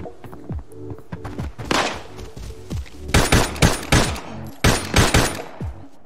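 Rapid automatic gunfire in the Arena Breakout shooter game comes in several sharp bursts of cracking shots, loud and close, separated by short pauses that carry dull mechanical clicks and thunks from reloading.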